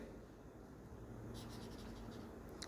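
A pen or marker scratches on a board in short strokes, faint and close, over a low background hum while a calculus limit is written out.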